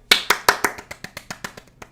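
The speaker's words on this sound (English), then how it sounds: "At least we can clap to that." A single person clapping alone, about a dozen sharp, close claps in quick steady rhythm that gradually grow softer.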